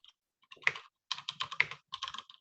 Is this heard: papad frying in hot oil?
no